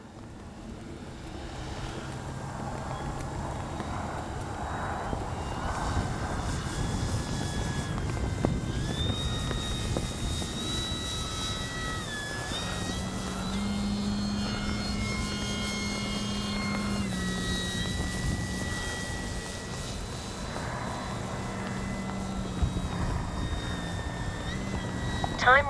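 A Flex Aviator 40E electric RC airplane flies with landing flaps down in light wind, its motor a thin steady whine shifting in pitch as it passes, heard over wind noise with occasional talk.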